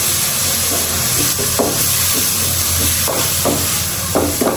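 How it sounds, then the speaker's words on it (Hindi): Chicken mince frying with ginger and garlic on high heat gives a loud, continuous sizzle, with repeated soft scraping stirs of a spatula through the pan and no voices. "ज़रा सा डालते हैं इसमें अदरक लहसुन, इसको करते हैं अच्छी तरीके से फ्राई"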